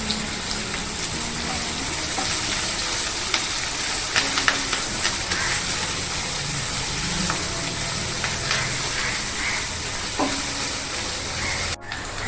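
Curry leaves sizzling and crackling in hot oil while cooking anapakaya (bottle gourd) curry, a steady, bright frying hiss with scattered pops throughout, close and continuous, with no talking.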